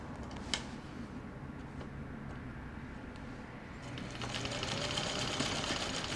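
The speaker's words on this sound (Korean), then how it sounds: "오랜 세월 흘렀지만은 아주 소음 없이 흔들림 없이 고운 바느질을 보실 수가 있습니다." An old Champion household sewing machine stitches steadily with a quiet, even mechanical whir and rapid ticking, growing slightly louder and busier in the final seconds, with no voices.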